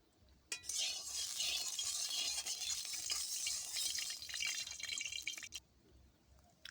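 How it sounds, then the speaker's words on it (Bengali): Oil hits a hot kadai with a sudden bright hiss and crackle that lasts about five seconds, close and fairly quiet, then cuts off sharply to near silence. "এবারে কড়াইতে একটু তেল দিয়ে দিলাম"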